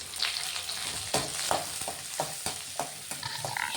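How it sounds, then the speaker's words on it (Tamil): Onions, garlic and a sprig of curry leaves sauté until browning, with a close sizzle under frequent scraping stirs of a spoon against the pan, and no speech. "இது கூட ஒரு கொத்து கருவேப்பிலை போட்டு நல்லா வதக்கி எடுத்துடலாங்க."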